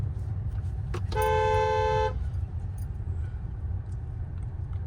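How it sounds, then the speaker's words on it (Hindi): A car horn blares once in a single sustained honk lasting about a second, close and loud, during a beginner driving lesson on the road, with low traffic rumble before and after. "हॉर्न"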